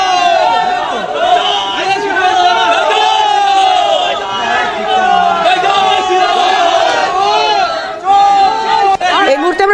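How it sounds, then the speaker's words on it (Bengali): At a Tamluk Lok Sabha election event, a crowd chants a 'thief' slogan at Debangshu Bhattacharya. Loud, massed voices shout in repeated rhythmic bursts over a steady roar of babble, with no break for the whole stretch. "দেবাংশু ভট্টাচার্যকে লক্ষ্য করে যে স্লোগান শোনানোর চেষ্টা করছি আপনাদের"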